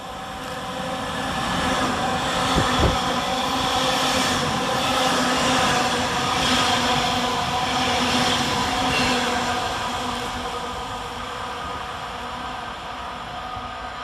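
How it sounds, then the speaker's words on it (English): Two Class 331 electric multiple units run through Moses Gate station in thick fog, a steady loud rumble of wheels and motors lasting throughout, with a brief clank midway and a slow fade at the end. "Next passing through the station is 331014 and 331001, working 2H07 from Blackpool North to Hazel Grove."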